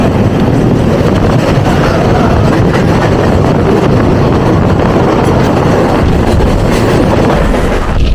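Loud, continuous roar of a Mumbai commuter train riding with its doors open, with rushing wind and rattling wheel noise throughout and no talking.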